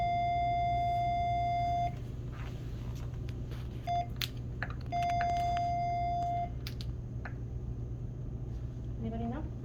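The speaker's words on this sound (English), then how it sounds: "Sorry about the beeps." Electronic equipment, a defibrillator being set to AED mode, beeping: a long steady tone followed by short beeps and another long tone, over a low hum with faint voices.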